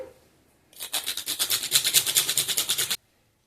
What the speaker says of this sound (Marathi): जायफळ सुद्धा टाकून घेऊया किसून